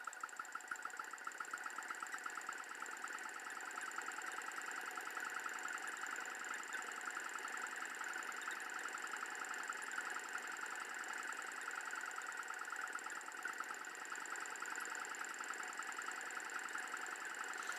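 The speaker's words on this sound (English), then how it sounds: "We'll turn the Newman motor on. Let it get started." A Newman motor whirs faintly and steadily, a high, even mechanical drone with tonal bands and a soft, rapid ticking pulse throughout, with no voices.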